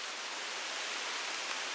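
Continuous broadband hiss of rain falling during a countryside walk in the Cotswolds high wolds, steady and uninterrupted with no voices.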